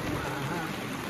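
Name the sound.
rain falling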